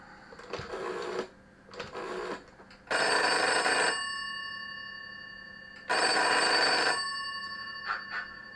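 A telephone rings when called from a GEC 706 clone, two bursts of bright electric bell ringing about three seconds apart, each lasting roughly a second and fading out, after a couple of softer earlier bursts.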